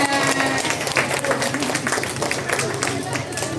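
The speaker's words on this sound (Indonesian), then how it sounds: "tepuk tangan untuk teman-teman semuanya." Audience of parents and children clapping after a children's drama performance at a Ramadan welcome camping event, mixed with overlapping voices and a lively hall crowd.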